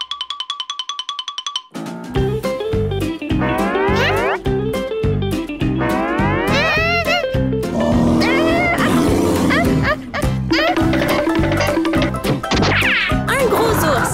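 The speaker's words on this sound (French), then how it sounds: "Un gros ours." A large bear growls and roars loudly and continuously in a cartoon scene, layered with busy music and sound effects after a short chiming intro.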